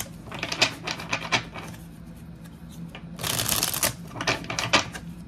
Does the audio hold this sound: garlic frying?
no